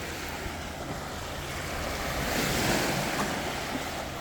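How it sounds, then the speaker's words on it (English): Boat wake waves wash and lap against the shore of Rampsholme Island on Derwentwater, a soft continuous surf swelling slightly midway, with light wind across the microphone. "Just the waves wake off the boat there"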